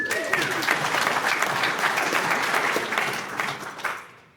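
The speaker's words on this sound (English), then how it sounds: "Round of applause for Kerry Loxley." An audience at a mining industry networking event breaks into loud, sustained applause from many hands, steady throughout and then fading out at the end, with a faint voice underneath.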